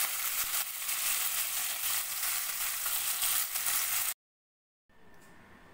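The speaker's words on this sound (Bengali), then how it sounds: "এবার আমি মাছটাকে অল্প তেল দিয়ে ভালো করে একটু ভেজে নিই।" Small mourala fish sizzle steadily in a little mustard oil, a dense, even crackle for about four seconds that cuts off abruptly, then resumes more faintly after a short silence.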